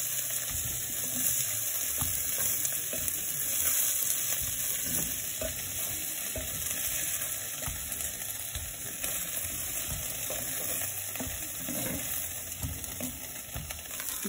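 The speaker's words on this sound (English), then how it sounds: "Frying pan and add some more oil to my frying pan." Oil sizzles steadily in a frying pan while frying sweet-and-sour meatballs, a continuous hissing crackle with occasional pops, no voices.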